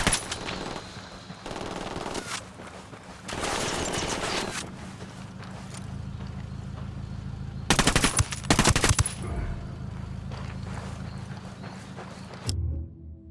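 Bursts of automatic gunfire in the video game Ghost Recon Wildlands, loud and close, in several rapid volleys separated by quieter stretches of ambient game sound, with a final short burst near the end.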